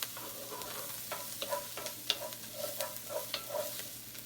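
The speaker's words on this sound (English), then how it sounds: "Let's add the garlic in there." Garlic sizzles quietly in a pan while being stirred for a crawfish and shrimp corn bisque, with soft scraping strokes and light clicks over a gentle frying hiss, no talking.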